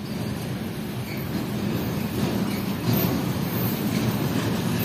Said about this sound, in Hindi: वो सामने से आ रही है सियालकोट और कराची के दरमियान चलने वाली 10 down Allama Iqbal GU20 train के लीड पर है